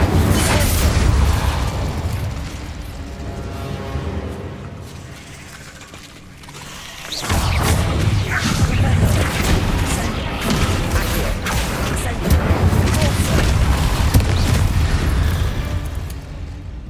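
The Bombarda explosion spell cast in Hogwarts Legacy on PlayStation 5, heavy booming blasts and rumbling impacts layered in dense game audio, loud and continuous with a brief lull before another surge of explosive noise.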